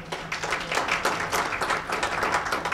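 A crowd applauds Mayor Riley Rogers at a community Coffee with the Mayor gathering, a dense, steady wash of many hands clapping that holds at an even level for the whole stretch.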